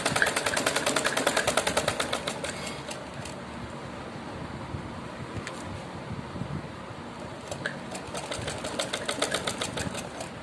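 A sewing machine stitches a folded strip of suit fabric, a rapid close mechanical rattle of needle strokes that runs in bursts and slows briefly before speeding up again, with no voices.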